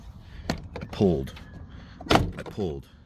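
Plastic clips pop and crack as an interior door panel is pried off a 2025 Toyota 4Runner, with sharp snapping bursts under a voice talking nearby.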